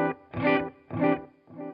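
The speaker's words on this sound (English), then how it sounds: "The Flashback, I will probably just have it as a tape delay, I think." Electric guitar through a Flashback tape delay pedal with reverb plays distorted, sustained chords in four rhythmic bursts, each swelling and fading with a smeared echoing tail.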